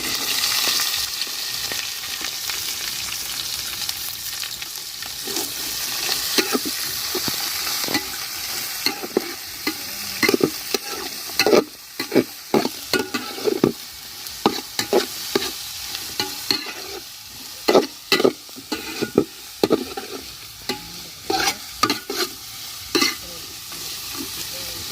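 Chopped onion and shallots sauté in a pan with green chilli, ginger and garlic for a chicken curry, giving a steady close sizzle broken by frequent scraping stirs that grow busier and more rhythmic toward the end.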